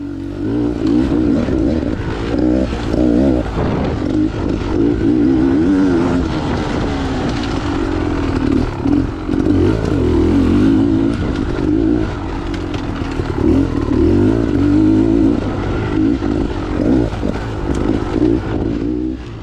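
A Beta XTrainer 300 dirt bike runs through a race, its two-stroke engine droning loud and close throughout and wavering in pitch as the throttle opens and eases off.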